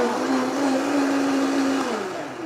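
A blender blitzes a grilling marinade in a cooking class kitchen, a steady loud whir with a sustained motor tone that slides slightly lower near the end as it winds down, no talking over it.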